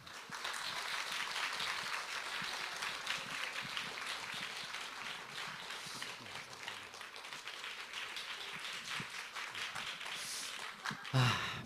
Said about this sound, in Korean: 우리 박사님 나오실 때 우리 큰 박수를 한번 환영하겠습니다